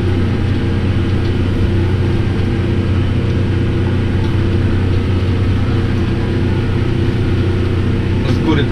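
A Kubota M7151 Premium tractor engine with a DPF idling outdoors, giving a steady low diesel drone and rumble that holds evenly throughout at close range.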